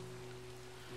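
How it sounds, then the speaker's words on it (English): Rain falls in the blocky survival game Minecraft, a steady even hiss of rainfall with a low constant hum beneath, no speech. "Yep, it is raining."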